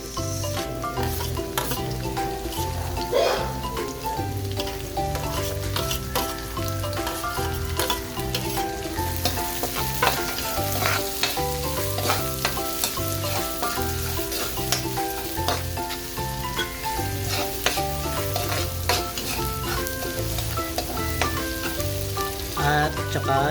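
Onion and garlic frying in a pan with beef for a beef kangkong dish, giving a steady, loud sizzle with repeated stirring and scraping strokes close by, alone without talk.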